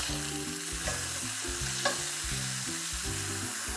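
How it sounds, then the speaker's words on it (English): Lamb loin chops sear in a pan of red wine sauce, a steady close sizzle and bubbling hiss with a soft clatter as they are turned, backed by a low musical tone and no speech. "Let's flip over the chops."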